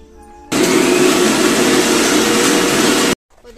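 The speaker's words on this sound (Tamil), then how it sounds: "புதினாவை நல்லா அரைச்சி முடிச்சாச்சு." A kitchen blender grinds cooled mint leaves in one loud, steady burst of roaring whir lasting a few seconds before stopping abruptly, heard close up with no talk.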